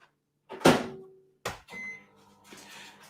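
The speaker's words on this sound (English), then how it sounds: "Oh, you want to microwave something?" A kitchen microwave oven being used to heat a wheat pillow, with a sharp door clunk and hum followed by quieter mechanical sounds and a low running drone, close by and fairly soft.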